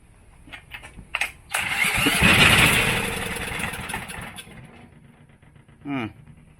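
A Coleman generator engine under repair, primed with fuel in the carburetor, kicks and briefly catches: a few sputtering pops, then a loud rising roar that fades back down. A voice talks nearby.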